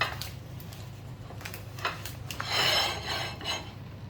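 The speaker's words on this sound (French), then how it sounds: "Un petit coup de sopalin pour faire propre." Paper towel wiping the rims of dessert plates holding pavlova with redcurrant compote, soft rubbing and light scraping strokes in a few short passes, close and fairly quiet over a low steady background hum.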